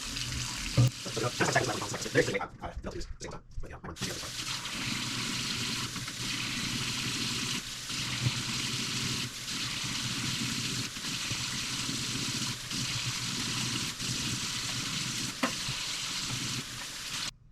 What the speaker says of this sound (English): wet them, put a few pumps of soap on them, suds them up